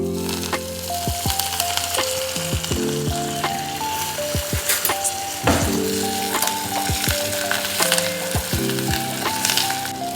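Crushed garlic and curry leaves sizzle in hot oil for idli sambar, a close, continuous crackling fry with bursts of spitting and occasional stirring, alone without talk.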